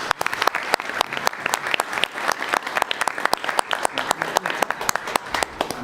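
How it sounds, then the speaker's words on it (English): Audience applause at a commission meeting honoring youth arts, steady rhythmic clapping from a modest crowd with sharp individual claps standing out, close and continuous for several seconds. "Let's give them a round of applause."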